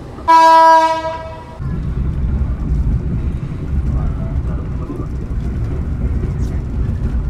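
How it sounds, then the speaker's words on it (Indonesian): A passenger train's horn blares with a sustained harmonic tone, then gives way to a steady low rumble of the train departing and gathering motion, hauled by a CC201 diesel locomotive on single track in Indonesia. "dipersiapkan berangkat kembali kereta api Rajabasa."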